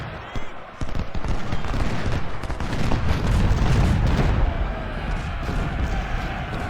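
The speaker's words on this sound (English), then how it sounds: "Some big guns over there." Artillery cannon fire in Ultimate General: Civil War, heard as a rolling wash of booms and crackling musketry blending into a thick, sustained battle roar that swells and then eases slightly.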